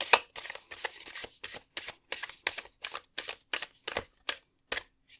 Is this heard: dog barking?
no